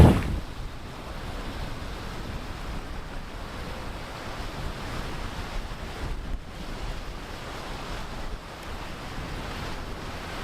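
Strong wind roars across the microphone at sea during windfoiling, with breaking waves and rushing water underneath. The noise is loud and continuous throughout, with no voices.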